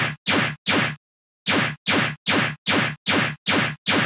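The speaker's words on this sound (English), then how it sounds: "Then I have this zap bass again." Punchy frequency-shifted synth zap bass hits repeat in a steady rhythm, each a sharp bright attack sweeping downward, with one pause partway through.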